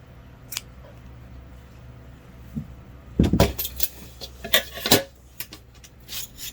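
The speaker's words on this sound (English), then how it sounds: "So what I'm going to do is cut off a couple inches." Scissors snip off crochet yarn, with a few sharp close clicks and snips clustered in the latter half, mixed with light metallic handling noises over a quiet background.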